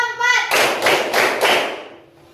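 Children clap hands together in a classroom clapping game, five sharp, loud claps in a steady rhythm following a short spoken cue.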